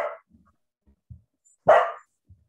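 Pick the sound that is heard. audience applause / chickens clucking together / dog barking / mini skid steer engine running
dog barking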